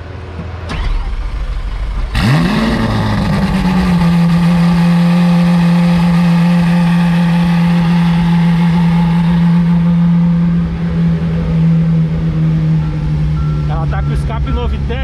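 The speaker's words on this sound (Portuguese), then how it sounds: "Lembrando que ela tá com escape esportivo, então ela ronca mais alto ainda" A Lamborghini Aventador S with a Novitec sports exhaust fires up with a sharp rev, then settles into a loud, deep, steady idle rumble close by, with a brief revving flutter near the end.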